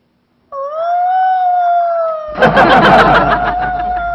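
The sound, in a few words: puppy howling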